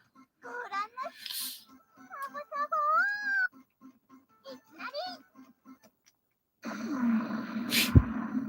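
Ryo-Ohki, the cat-like creature, meows in a PS1/PS2 adventure game with turn-based battle elements, giving several short rising and falling cries in bursts over a steady rhythmic backing, followed by a louder, noisier passage.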